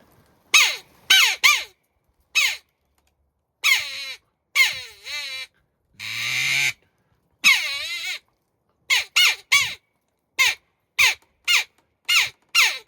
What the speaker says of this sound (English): Also I have a jackdaw call.